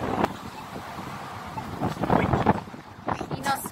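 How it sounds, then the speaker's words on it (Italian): Gusty wind buffets the microphone outside a station, rising and falling in rough bursts, with a faint hum of traffic beneath. "Tira un po' di vento."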